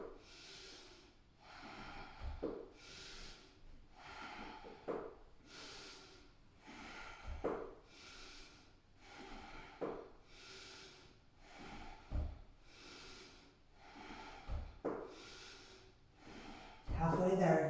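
Rhythmic kundalini yoga breathing, forceful nasal inhales and exhales repeating about every second and a half in a steady cycle, close and clear, with a louder burst of breath right at the end.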